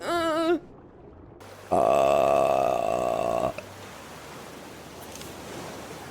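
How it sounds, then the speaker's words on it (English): A loud, long burp lasting nearly two seconds, close and rumbling, preceded by a brief vocal sound and followed by quiet noisy background. "And I burp."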